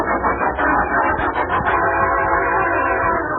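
A radio drama train sound effect at a station: a loud, close rumbling locomotive with a sustained horn blowing over the steady rolling of the cars, filling the whole stretch with no speech.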